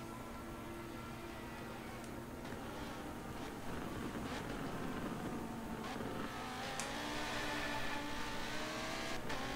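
A Nissan GTR race car in a GT3 Cup racing video game, engine droning and rising steadily at moderate volume amid other cars on track, with occasional brief clicks over the continuous roar.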